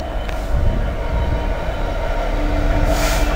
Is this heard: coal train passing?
yes